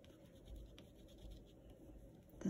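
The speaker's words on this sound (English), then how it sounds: "you could even trace with a blue ink pen." A blue ink pen tracing over a bird drawing on paper makes a faint, continuous scratchy scribble, with short strokes repeating in a loose rhythm and a louder scrape or bump at the end.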